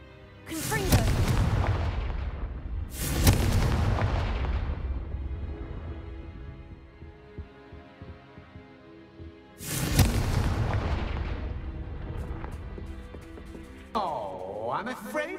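Confringo explosive spell cast in the Hogwarts Legacy video game, producing loud booming blasts: two close together at the start, a third after a quieter stretch, followed by a swooping magical effect.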